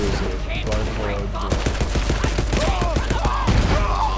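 Rapid gunfire from Borderlands 3 gameplay, including a Vladoff gun, crackles in dense bursts over a busy game soundtrack, with a voice talking over the shots.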